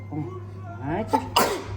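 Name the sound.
sneeze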